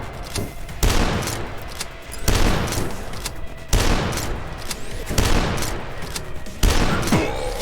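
Rapid bursts of gunfire with bullet impacts from the retro shooter game Dusk, loud and dense, repeating in several heavy volleys with brief gaps between them.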